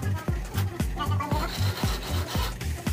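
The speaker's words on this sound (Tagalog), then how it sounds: "Katapos kalisin natin para matanggal yung mga sobrang halo at saka pantay yung palitada" A tool scrapes excess concrete mortar off fresh plaster on a concrete door jamb, rasping in quick, regular strokes about twice a second, close and moderately loud.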